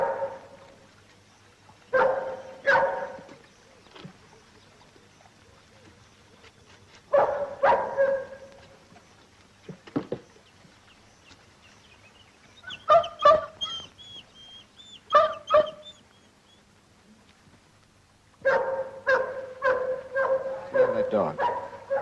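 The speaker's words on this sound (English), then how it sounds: "Dog." A dog barks in short bursts of two or three, with whimpering yips between, moderately close amid quiet pauses.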